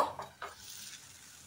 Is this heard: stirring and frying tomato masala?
yes